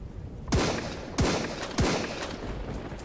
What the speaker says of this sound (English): Let me just make a warning shot.